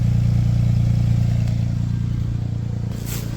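A car engine settled into a steady idle after warming up, running normally, with a smooth low droning hum that holds even and loud throughout, with no talking.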